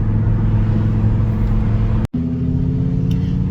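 An Audi R8 race car idles after a cold start with a steady, loud, low rumble, broken by one sharp momentary dropout about two-thirds through before the idle resumes.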